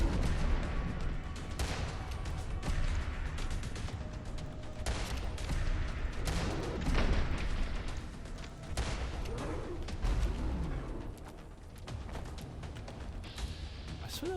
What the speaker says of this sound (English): I swear there was someone else shooting at me.